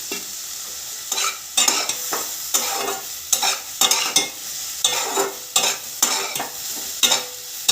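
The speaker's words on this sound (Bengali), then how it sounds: "ভালো করে কষিয়ে নিচ্ছি।" Fish curry masala with fried radish stirred in a hot pan, a steady sizzle broken by regular scraping strokes of a spoon about once every second, close and clear.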